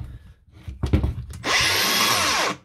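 Makita DGA463 cordless angle grinder with a worn bearing, preceded by a few close clicks and handling knocks, then spinning up into a loud, harsh, whining buzz for about a second before cutting off.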